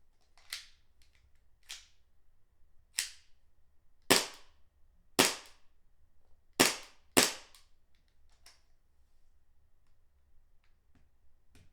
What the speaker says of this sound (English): Reinstall your base pad and test with your gun. Fire a few shots and re-inspect for any leaks.